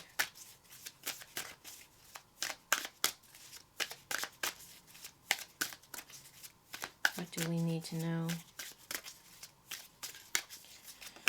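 Rapid riffling snaps of tarot cards being shuffled, repeated bursts close by, with a brief buzzing tone midway and a voice speaking briefly.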